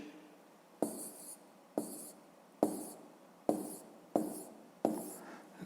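Pen or pencil writing numbers by hand on paper while working a subtraction problem, six sharp scratchy strokes in a regular rhythm, close and clear, with no talking.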